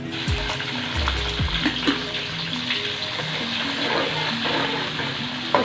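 Onions hit hot oil with cumin in a kadhai and sizzle loudly, a continuous crackling fry with occasional stirring clinks close up.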